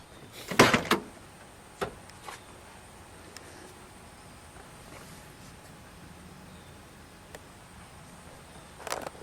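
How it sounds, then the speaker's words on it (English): A 1966 Ford Galaxie 500 convertible's door opens with a sharp latch click and thump near the start, followed by quiet background and a few faint clicks, then another brief knock. "Oh, that's a door."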